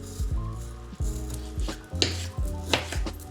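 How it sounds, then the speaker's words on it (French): Kiwi and banana being sliced with a knife on a board, a series of sharp close chopping taps at an irregular rhythm, several clean cuts in quick succession with no talking. "Je vais venir couper mes fruits."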